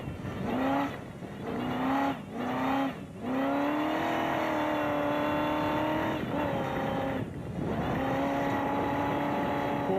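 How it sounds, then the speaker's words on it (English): Rally car accelerating hard at around 160 km/h on a rough track, its engine loud and close, climbing in pitch through repeated gear changes with brief dips between pulls, driving continuously throughout. "He has got his foot pinned to the accelerator through there."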